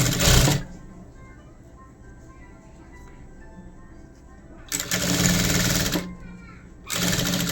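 Sewing machine stitching a blouse, loud whirring runs at the start, then a long quiet stretch before two more steady bursts of stitching near the end, with a low background murmur between.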